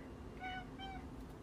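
A house cat meows twice in short, clear calls over a steady background hum, with no one speaking.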